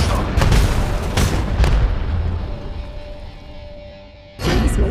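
Grenade blasts in the mobile shooter Apex Legends Mobile: several loud booming detonations in the first two seconds, a lull with a faint tone, then another burst near the end.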